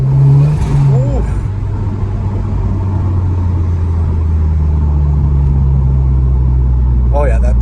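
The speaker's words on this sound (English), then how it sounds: "Oh yeah, that turbo is kicking in nicely. It's got more airflow." A 2019 Honda Civic Type R with a PRL intake revs its turbocharged engine, a loud rumbling drone with rising pitch sweeps at the start and end, while someone talks over it.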